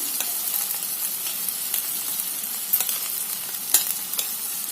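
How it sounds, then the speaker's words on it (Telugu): Ground masala frying in ghee for vangi bath, a steady close sizzle with scattered soft stirring scrapes and small pops, no voices. "ఇప్పుడు ఈ టైంలో మనం దీంట్లోకి ఇందాక రుబ్బి పెట్టుకున్న మసాలా వేయాలండి."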